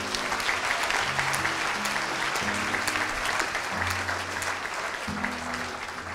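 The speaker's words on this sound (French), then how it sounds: "est-ce qu'on peut les applaudir ?" An audience at a French school alumni event breaks into sustained applause, loud and dense clapping that carries steadily before slowly thinning.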